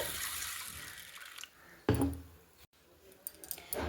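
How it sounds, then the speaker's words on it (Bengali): Water splashes and trickles onto large-grain sabudana (tapioca pearls) in a bowl for a fasting-day sabudana pulao, in two short close bursts with a wet, squishy tail and a brief pause between. "এরপরে কিন্তু আমি সাবুদানাতে দিয়ে দিচ্ছি জল"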